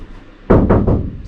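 Knuckle taps on the bare metal panel of a Fiat Ducato van, three hollow, resonant knocks in quick succession after a short quiet lead-in, close and fairly loud.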